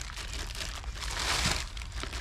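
Plastic bags of russet potatoes are handled up close, crinkling and rustling in bursts, with a louder crunchy swell partway through.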